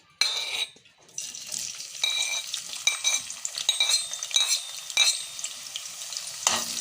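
Chopped onions hit about half a cup of hot oil with a bright hiss, then settle into an uneven crackling sizzle with spatula scrapes and light clatter from the pan.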